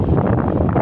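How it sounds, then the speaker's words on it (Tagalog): Strong habagat monsoon wind buffets the microphone on a Philippine coast, a loud, steady low roar with constant gusting rumble and no voices. "Grabe pa ang lakas ng hangin. Hangin habagat."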